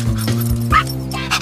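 A cartoon dog barks and yips in a short burst of quick, close, high-pitched calls, with a brief whimpering note among them and no speech.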